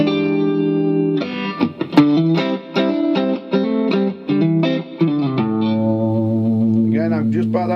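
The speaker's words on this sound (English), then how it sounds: "Put you onto warm clean, just tweak the thing a little, touch your reverb." Electric guitar played through a Blackstar ID series amp on a warm clean setting with a touch of reverb, strummed chords and picked notes ringing out loud and close, with lingering sustain at the end.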